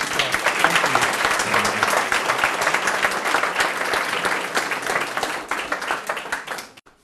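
Lecture-hall audience applause with many hands clapping, dense and steady at moderate loudness. It thins out and fades over the last second.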